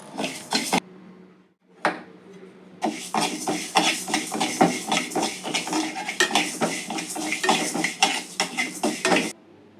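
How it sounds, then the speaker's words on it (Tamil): Rice and lentils dry roasting in a pan, with a spoon scraping and clinking against the metal in quick, repeated strokes after a short pause near the start, close and fairly loud, with no talking. "இதை நல்லா வறுத்துக்கலாம்"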